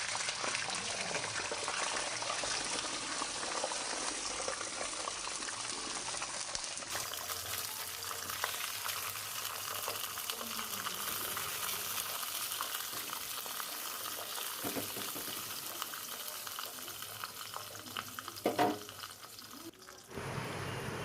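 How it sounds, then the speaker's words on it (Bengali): Marinated fish cook on a banana leaf laid in a hot kadai, giving a soft, steady bubbling simmer that stays fairly quiet and even throughout, with no voices. "এবার এর ওপরে ওই মাখিয়ে রাখা মাছগুলো ঢেলে দেব।"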